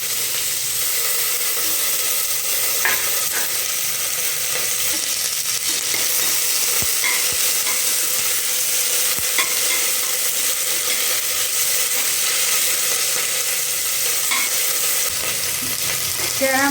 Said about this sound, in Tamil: பொரிச்சிச்சு வெங்காயம் போடுறேன், கறிவேப்பிலை, மிளகாய் எல்லாம் போடுறேன்.